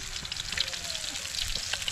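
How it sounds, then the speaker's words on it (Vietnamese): Fish frying in hot oil for a cooking meal, a constant crackling sizzle with scattered pops, close by, with faint voices in the background. "chiên cá."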